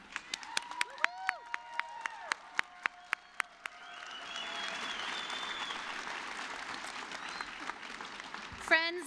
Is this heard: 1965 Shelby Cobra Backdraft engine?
no